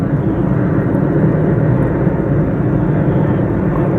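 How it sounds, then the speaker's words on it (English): A low, steady engine drone from an airplane flying past over a park at dawn hangs overhead, constant and fairly loud throughout with no voices. "plane just flying past"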